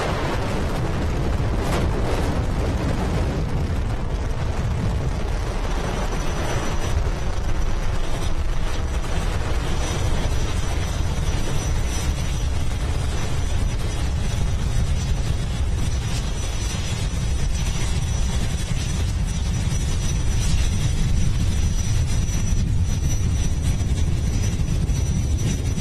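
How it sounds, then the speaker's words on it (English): A SpaceX Falcon 9 orbital-class rocket, a reflown booster, lifts off with a continuous deep, rumbling roar and crackle that stays loud and dense throughout, heard from a distance without any talk. "Liftoff of Falcon 9, the world's first reflight of orbital class rocket."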